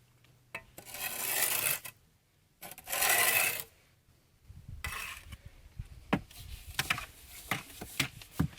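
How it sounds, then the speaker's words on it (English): A trowel scraping excess cement off concrete blocks while building a farm septic system: two long gritty scrapes, then a run of sharp taps and knocks close by. "So now you want to just scrape this stuff out of the way, and you can always reuse your cement."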